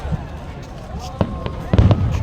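New Year fireworks explode with sharp bangs and crackles, some near and loud, others more distant, scattered irregularly over background noise and voices.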